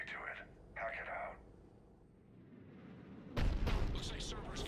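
A Cerberus cannon fires in Mass Effect 3 combat, a heavy booming blast that erupts loudly after radio-style voices and a low ambient rumble.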